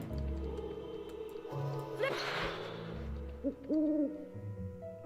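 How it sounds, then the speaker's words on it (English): Owl hoots in the Harry Potter and the Chamber of Secrets PC game ring out as a few clear, wavering calls over a low ambient game background, fairly close and distinct. "Oh, the owl noise again."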